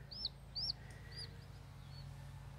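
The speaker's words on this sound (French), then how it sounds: "Des petits poussins noirs" Small black chicks in a garden, giving several thin, high peeping chirps, two close together at the start then softer ones spaced out, faint over a low steady hum with no talking.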